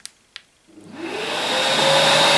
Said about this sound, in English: Turn the dusty on.